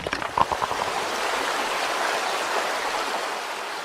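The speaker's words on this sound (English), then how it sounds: "Water comes out," Water rushes out through a hole broken in an underground tunnel wall, a dense continuous gush that starts with a few splashy spurts and then settles into a steady, loud torrent.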